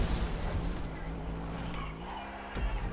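Engine drone and tyre skid from a car spinning out in a video game, a steady loud whine with a sharp thud near the end, with a voice speaking briefly over it.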